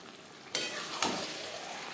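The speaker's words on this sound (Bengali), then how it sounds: "হাই ফ্লেমে দু তিন মিনিট নাড়াচাড়া করে দেব" Chicken and potatoes stirred in a pan over a high gas flame, a quiet steady sizzle with two soft scraping strokes, no voices.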